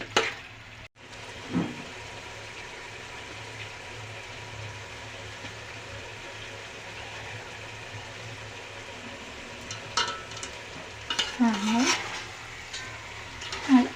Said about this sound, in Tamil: இந்த இஞ்சி பூண்டு வெங்காயத்தோடு சேர்த்து இந்த சிக்கன் ஒரு நிமிஷம் கொஞ்சம் நல்லா வதங்கட்டும்.